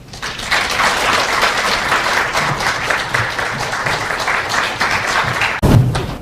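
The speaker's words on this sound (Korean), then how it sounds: "큰 박수로 맞아주시기 바랍니다" Loud, steady applause from a lecture audience welcoming a history professor, a dense even wash of clapping that holds throughout, with a brief thump near the end.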